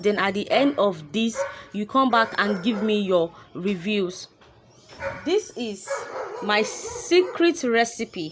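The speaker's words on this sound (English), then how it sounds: "Sorry, please pardon my dog barking." A dog barking in a home, barks mixed in with someone talking continuously close by, the barking partly masked by her voice.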